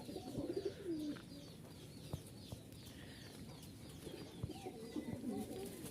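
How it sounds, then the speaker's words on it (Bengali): Soft, low coos of Rajshahi flying pigeons repeat in gentle rolling phrases, fairly faint, over a quiet background with a few scattered clicks and flutters. "এগুলো হচ্ছে রাজশাহীর খুব ভালো মানের কবুতর"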